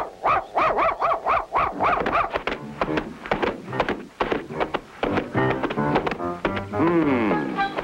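A cartoon dog gives a run of about seven loud, evenly spaced barks, then yips and whimpers over a busy music score, with cartoon voices heard around it.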